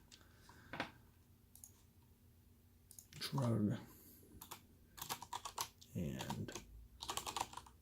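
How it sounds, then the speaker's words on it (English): Keys on a computer keyboard are pressed in short bursts of clicky typing while a person talks intermittently in a quiet room. "I'm just using Alt and the arrow keys to like scrunch these together."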